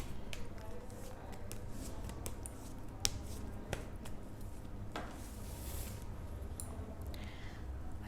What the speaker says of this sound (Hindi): तो जेमिनाई के लिए मैं कार्ड शफल कर रही हूँ